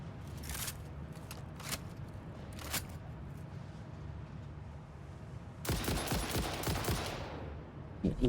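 A rifle loaded with turbo ammo in the video game Satisfactory fires in rapid machine-gun-like bursts: a few short spurts early on, then a longer sustained burst near the end, fairly faint against quiet background hum.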